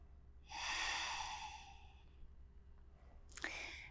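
Slow, relaxed yoga breathing close to the ear: one long airy exhale, a pause, then a sharper inhale, all quiet and with no talking.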